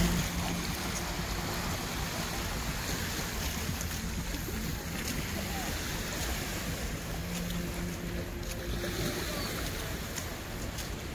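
Two speedboats run side by side on open water in Canada in late August, making a continuous broad rush of engine drone, wash and wind that holds steady with no break.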